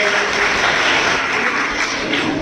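An audience at the inauguration of a sports nursery in Siwani Mandi breaks into loud, dense applause welcoming Sukhbir Singh, a steady wash of clapping lasting a couple of seconds.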